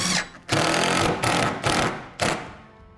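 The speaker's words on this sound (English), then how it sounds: "Screw the bracket to the wall" A power driver screws a heavy-duty floating shelf bracket into a wall stud, giving several short whirring bursts with brief pauses between them, loud and close.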